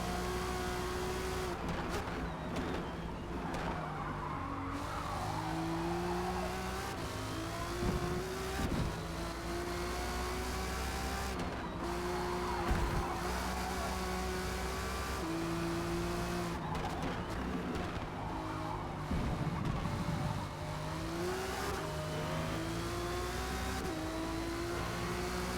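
A race car in Forza Motorsport laps on hard tires, its engine climbing and dropping through gear shifts with repeated tire squeals through corners, loud and continuous with no talk.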